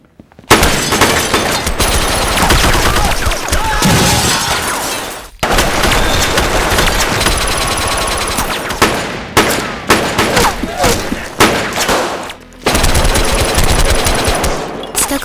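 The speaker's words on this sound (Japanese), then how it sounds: "突然、撃ったのは駆けつけた白老。" Gunfire in an action film shootout, loud rapid bursts of automatic fire with sharp cracks and booms, broken by brief silent cuts and scene changes, up close and dominating throughout.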